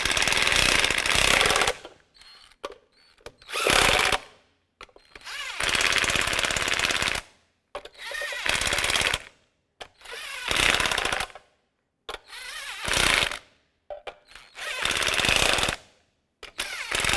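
Repeated loud bursts of a power impact tool rattling as it tightens a wheel center cap on a Chevrolet Express 3500, each lasting one to three seconds with short silent gaps between, close to the microphone.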